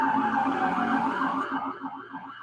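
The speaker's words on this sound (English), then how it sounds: "There's the sirens." A wailing siren rises and falls in repeated sweeps, fairly loud at first and then fading a little as it continues without any talking over it.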